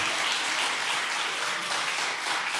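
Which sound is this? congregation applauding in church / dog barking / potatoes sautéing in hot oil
congregation applauding in church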